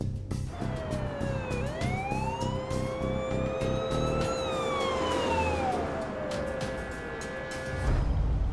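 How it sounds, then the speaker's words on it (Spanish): An ambulance siren wails, its pitch sweeping slowly up and down, over a low rumble of traffic, steady and fairly distant. "Ambulancia."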